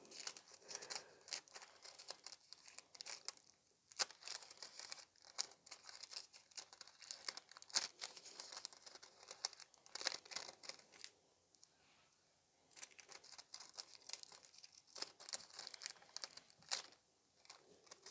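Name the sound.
red nail art transfer foil being applied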